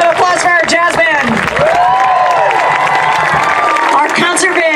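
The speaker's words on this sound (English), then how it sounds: "Another round of applause for our jazz band." Audience applause and cheering for a middle school jazz band at a combined band concert, loud sustained clapping with crowd voices and whoops mixed in throughout.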